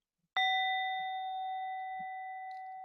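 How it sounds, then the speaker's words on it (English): A single meditation bell is struck once, giving a clear, close ring that sustains and slowly fades over a few seconds with steady overtones, alone in an otherwise quiet room. "if I ring the same bell right now in the same way,"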